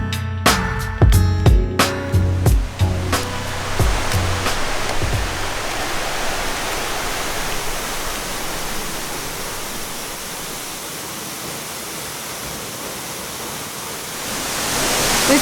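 Pengempu waterfall in central Bali, a steady broad roar of falling water that fills the scene after a few brief knocks and clicks at the start, swelling slightly toward the end.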